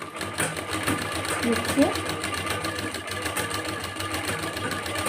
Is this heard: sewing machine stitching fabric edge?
yes